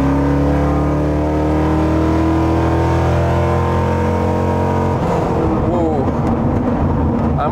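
A 600HP V8 Land Rover Wildcat Defender 110 rumbles at a steady, loud drone, then the engine note breaks into rough, rising acceleration near the end, close and without speech.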